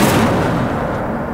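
A fiery Incendio spell is cast in the Hogwarts Legacy video game, a loud, dense burst of crackling fire that fades over about a second.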